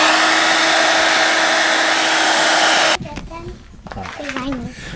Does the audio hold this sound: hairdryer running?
yes